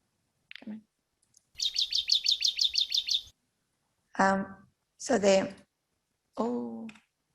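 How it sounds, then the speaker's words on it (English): Song of a Galápagos finch resembling a small tree finch: a rapid series of about a dozen sharp repeated chirps, then several separate harsher buzzy calls with gaps of silence between, clear and close. "the enlarged nares ones are sounding very similar to another species of finch, which is a small tree finch"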